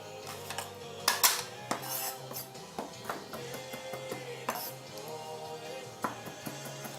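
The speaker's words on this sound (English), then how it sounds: "Nice, fine chop. And it keeps my knife skills alive." A knife finely chopping fresh dill on a cutting board gives irregular, close, sharp taps and clicks, some in quick pairs, with quiet pauses between.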